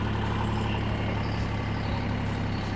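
A mini tractor pulling a Bomet plough drives off, its engine giving a steady, loud, close rumble with a constant drone throughout and no talk.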